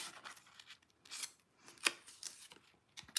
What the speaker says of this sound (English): I'm gonna cut this plant out because I think I might be able to use it on the front